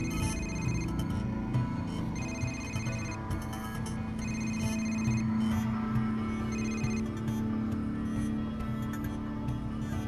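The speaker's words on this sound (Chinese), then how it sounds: "梁总，刘副市长电话。" Telephone ringing in an office in a Chinese police drama, an electronic ring repeating in regular bursts over a low steady hum.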